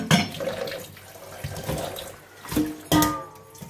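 Tap water runs in a sink while a wooden chopping board is washed for drying fish at home, a steady splashing flow with a few louder gushes and clatters, no talking.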